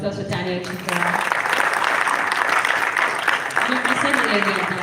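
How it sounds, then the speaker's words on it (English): An audience at a DevFest tech conference in Ado-Ekiti claps for a speaker after his talk, a steady wash of applause from a moderately sized crowd with some talking over it. "Please, a round of applause for Daniel Chika."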